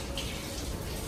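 Taps run steadily in a mosque ablution area, a continuous close hiss of flowing water with no break.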